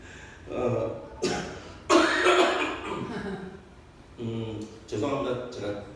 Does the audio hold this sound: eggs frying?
no